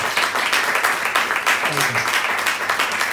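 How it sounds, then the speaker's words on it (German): Applause from an audience at the close of a talk event with Raul Krauthausen, a dense steady wash of clapping lasting throughout, with a voice faintly underneath. "dicken, fetten Applaus nochmal für dich und alle Menschen, die dich auch unterstützt haben"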